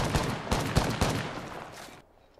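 Rapid gunfire from other players in Apex Legends, a quick series of punchy shots at a steady rhythm, moderately loud, ending abruptly into near silence.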